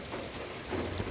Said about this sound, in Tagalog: Lakas pa rin ng ulan.